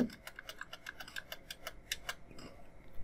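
Keys clicking on a computer keyboard as a command is typed into a Windows Run box, a quick irregular run of light taps, close and moderately soft, with no talk over it.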